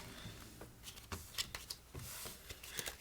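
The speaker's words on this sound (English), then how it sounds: "You're going to have the deck shuffled." A deck of playing cards shuffled up close, with quiet riffling flutters and soft card taps scattered irregularly across a few seconds, faint and without talk.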